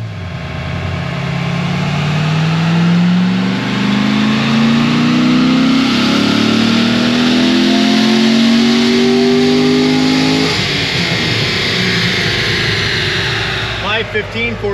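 A 2008 Corvette Z06 with its LS7 V8 revs hard during tuning, the engine note climbing steadily for about ten seconds before dropping off abruptly, loud and close throughout.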